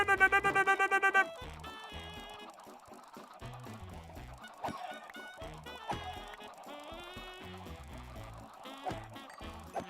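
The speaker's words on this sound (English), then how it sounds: "Be nice to the chickens clucking around." Chickens cluck in the Minecraft video game, rapid bursts of clucks opening loudly and then recurring at intervals over light game sounds and tones.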